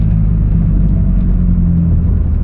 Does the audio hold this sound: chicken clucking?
no